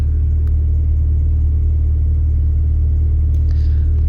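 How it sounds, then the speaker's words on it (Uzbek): Trucks driving together in a convoy, heard from inside a cab as a steady heavy low engine and road rumble, constant and loud throughout, with a faint rattle near the end and no talking. "3 ta mashina birga ketyapmiz."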